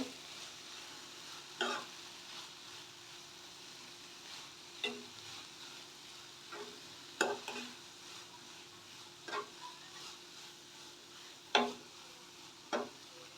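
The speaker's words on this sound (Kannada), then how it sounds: "ಇದೆಲ್ಲ ನೀಟಾಗಿ ಮಿಕ್ಸ್ ಮಾಡ್ಕೋಬೇಕು" Chillies and coriander powder being stirred into an onion flower curry in a pan, heard as scattered scrapes and taps of the spoon at irregular intervals over a faint steady sizzle.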